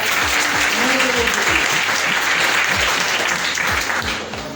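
A seated crowd at a network-marketing business meeting bursts into loud, dense applause that holds steady, then eases slightly toward the end.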